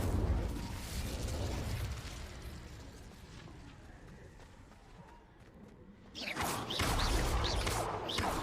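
The Incendio fire spell cast in Hogwarts Legacy, a loud fiery burst and roaring crackle, followed by a quieter rumbling stretch and then a second sudden flare of fiery noise toward the end.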